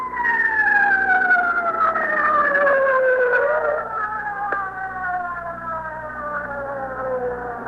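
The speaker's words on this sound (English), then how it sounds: "The ambulance is just coming up here." An ambulance siren wails, sweeping downward in pitch, loud and close, holding steady over a low engine rumble as the vehicle draws near.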